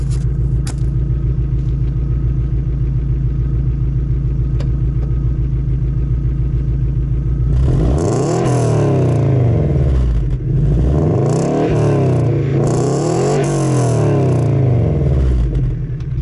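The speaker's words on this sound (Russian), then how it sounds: "А теперь давайте послушаем с газом." Lada Priora with a dual exhaust, first idling with a steady low rumble, then revved several times so the engine note rises and falls in loud, close swells.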